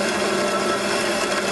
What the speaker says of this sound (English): So straight in with a 10mm drill.